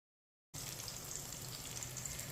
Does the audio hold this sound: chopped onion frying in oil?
yes